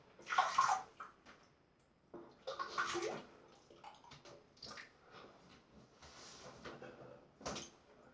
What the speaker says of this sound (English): I've rinsed the brush off